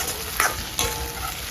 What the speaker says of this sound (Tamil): தக்காளி எல்லாம் சேர்ந்து நல்லா வதங்கி வரணும்.